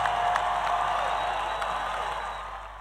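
Church congregation at a worship service applauding together, a dense steady wash of many hands clapping that fades slightly toward the end, with no speech over it.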